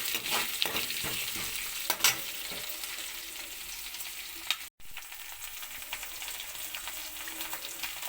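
Potato and lady's finger (okra) fry in a pan, giving a continuous close hiss and crackle with occasional stirring scrapes, then a brief cut and more steady sizzling.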